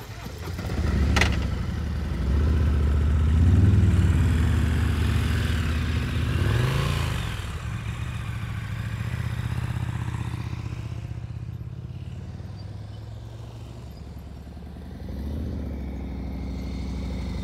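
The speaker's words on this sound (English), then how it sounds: "listen to that throttle" A motorcycle ridden during slow-speed riding practice gives a low engine rumble that swells under throttle early on, then settles to a quieter, steady idle-like putter, with a brief throttle blip near the end.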